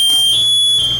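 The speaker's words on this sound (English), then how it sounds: "The thing by his right hand there that's flashing, that's the alarm." Alarm on a firefighter's breathing apparatus sounding, a loud, steady piercing electronic tone held continuously at close range, with nothing else heard over it.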